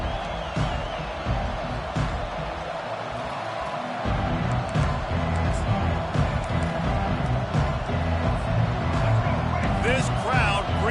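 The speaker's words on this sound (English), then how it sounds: "This crowd bringing an ear-splitting welcome to their visitors." A packed stadium crowd roars at a college football game, a broad, loud sustained wash of cheering that swells over the second half, with an announcer talking over it.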